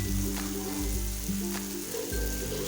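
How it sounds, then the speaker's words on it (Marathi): Tomatoes and powdered masala frying in oil for a cabbage dish, a steady close sizzle with a few soft stirring knocks and scrapes, no talking. "आपल्याला टोमॅटो तेलामध्ये परतून घ्यायचं आहे"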